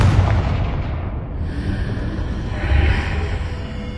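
A Confringo spell blast in Hogwarts Legacy erupts as a loud, close booming explosion, followed by a rumbling roar and a hissing trail that fades over a few seconds.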